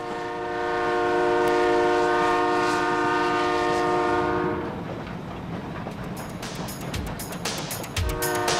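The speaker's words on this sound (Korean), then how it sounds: "그런 크고 작은 소란을 안고 열차는 경주를 향해 내달리고" A train runs toward Gyeongju, opening with a long, loud horn blast over steady track rumble, then continuing with rolling wheel noise and a few sharp clanks after the horn stops.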